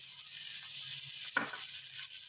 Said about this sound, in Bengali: আমার গাজর আর বিনস ভাজা হয়ে গেছে, এবার আমি রাজমা ছোলাটা দিয়ে দেবো।